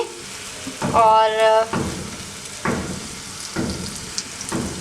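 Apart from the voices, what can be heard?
shallow frying daal shami kebabs in hot oil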